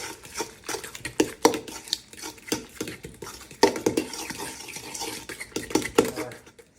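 Pimento cheese mixture with drained pimentos stirred in a bowl, giving irregular thick scrapes and soft knocks of a utensil at close range, repeated steadily for several seconds with no talking.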